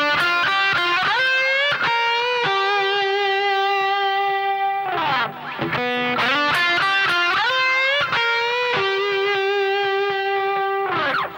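Distorted electric guitar plays a lick built on string bends, loud and close with effects-heavy tone and sustained bent notes, brief pauses between phrases, no talking.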